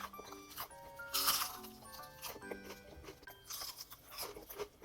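Crisp crunching bites of cooled crispy fried chicken with bright, crackly texture, several in quick succession, close to the mic amid quiet chewing.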